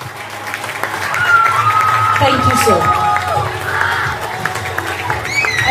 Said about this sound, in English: you can hear by the round of applause and the noise made by the parents